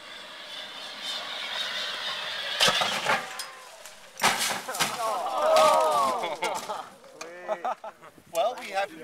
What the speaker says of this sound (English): we have the vehicle flew through the air, and we were going for a spiral roll